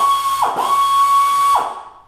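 Heated stud being pressed into a snowmobile track, a loud close whirring tool sound with a steady whine and two brief grinding bursts.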